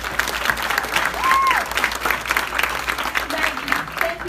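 Warm clapping fills a room at a black tie awards gathering, a steady round of applause from the crowd, with a brief high whistle rising above it.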